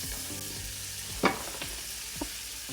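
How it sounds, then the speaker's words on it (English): Ginger and soup vegetables sautéing in a pot, with a steady hiss of frying and a few sharp utensil knocks and scrapes as the pieces are stirred. "we're going to saute this up for just a few minutes"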